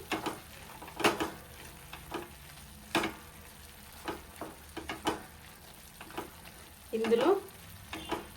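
A spoon stirs capsicum masala curry with softened cooked tomatoes in a pan, giving intermittent scrapes and clinks over a low simmering sizzle, with brief background voice.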